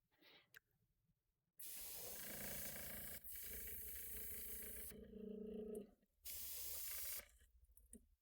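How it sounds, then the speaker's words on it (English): Black primer sprays from an aerosol can in several bursts, each a loud steady hiss with short pauses between, and faint sounds before the first burst. "And then here we just spray."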